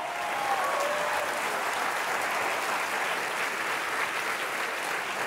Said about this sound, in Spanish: Alguien dele palmas al Señor.